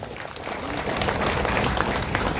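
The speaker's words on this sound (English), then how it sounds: "Let us give them another round of applause." Crowd applause after a performance by young girls at a political party gathering in Shillong, a steady, fairly loud wash of many hands clapping that swells slightly and holds.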